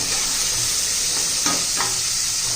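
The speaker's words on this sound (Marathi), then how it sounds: "चांगले तेलामध्ये पण वाटाणे परतून घेतल्यामुळे पटकन मऊ होतात बघा" Peas and vegetables sauté in oil for spinach pulao, making a continuous loud sizzle with a few brief scraping stirs midway, close and with no voices.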